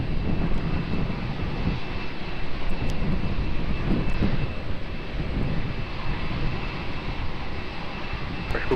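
Jet airplane landing on runway 20 at Lisbon Airport, a steady broad engine roar at moderate distance, holding fairly even throughout with small swells.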